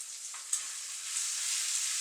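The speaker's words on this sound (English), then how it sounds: "So it's been frying for about a minute with the mixture on it." Chilli con carne meat mixture sizzles in a frying pan, a steady close hiss with a brief clink of stirring early on, no voices.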